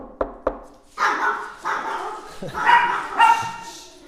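Dogs bark in a quick series of loud, close woofs, starting with two sharp short yaps and followed by longer rough barks, with some whimpering tones mixed in.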